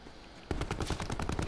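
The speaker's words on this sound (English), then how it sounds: "Whoa, I'm getting shot by the guy on the beach!" Rapid automatic gunfire in Call of Duty Black Ops 4 Blackout duos bursts in after a half-second of quiet, a loud, dense rattle of shots that continues steadily to the end.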